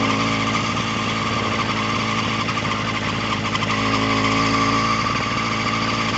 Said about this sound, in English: This is me just barely tapping on the throttle. Little RPM bites.